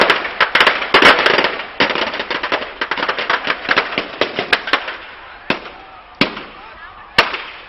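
Firecrackers packed inside a burning Ravan effigy at a Dussehra Ravan Dahan go off in a rapid, irregular string of sharp bangs and pops. The bursts are dense and loud at first, then thin into scattered cracks.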